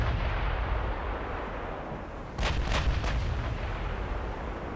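Warship guns fire in the naval strategy game Ultimate Admiral Dreadnoughts, three loud booming shots in quick succession over a steady rumbling battle ambience, with no talk.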